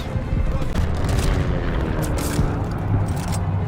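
A tank fires in Call of Duty: Vanguard's Berlin mission, a heavy close boom followed by rumbling battle noise and scattered impacts, with a voice speaking briefly.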